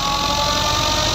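Fiat 640 tractor engine running steadily while driving a thresher through its PTO shaft, a loud, continuous mid-range drone with a dense mechanical rumble and no pauses.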